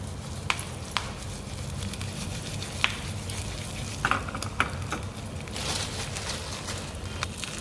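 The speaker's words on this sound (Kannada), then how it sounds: "ಒಂದು ಮೆಣಸು ಮತ್ತು ಕರಿಬೇವು, ಇಷ್ಟೇ ಒಗ್ಗರಣೆ ಹಾಕ್ಕೊಳ್ಳೋದಿರೋದು." Chilli and curry leaves tempering in hot oil for ash gourd sambar, producing a close, even crackling sizzle with scattered sharp pops and a few utensil taps, plus a low steady hum underneath, no speech.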